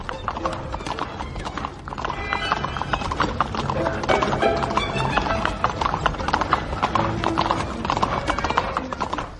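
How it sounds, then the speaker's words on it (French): Several horses gallop hard, drawing a carriage with a steady clatter of hooves, one horse whinnying, under continuous music and voices throughout. "les postillons leur firent prendre un galop insensé"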